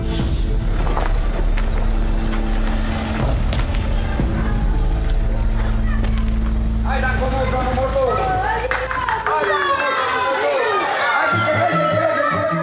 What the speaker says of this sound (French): Pas de traîneau, mais une voiture.